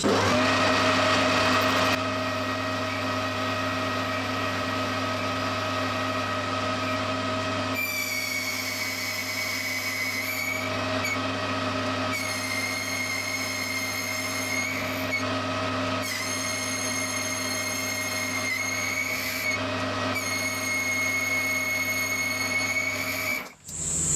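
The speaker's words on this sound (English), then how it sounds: "Now I've got to bore out this inside here until we get back to the position of the hex in this end of the socket here" A machine bores out the inside of a steel socket for a mill vice speed handle, a steady motor whine joined by bursts of high-pitched cutting squeal in repeated passes, loud and close with no talking.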